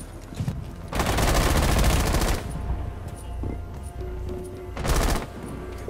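IQ's LMG from Rainbow Six Siege fires in two loud, rapid automatic bursts, a long one and then a shorter one, close up with quiet game ambience between them.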